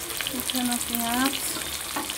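Chopped onions frying in oil, a steady close sizzle with brief stirring scrapes across a couple of seconds, no talking.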